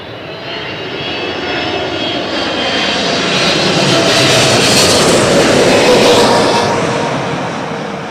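United Airlines jet engine roaring at London Heathrow Airport, a loud sustained broadband rumble that swells to a peak and slowly fades as the aircraft passes nearby.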